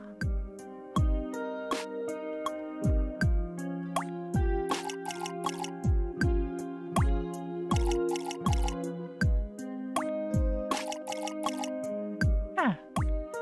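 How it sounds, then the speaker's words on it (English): Sprouts being watered in the video game Melatonin: a steady run of wet drips and plops falls in time with a bouncy musical backing, each splash crisp and close over a continuous game soundtrack. "Tap A to water sprouts. Hold it down to soak them."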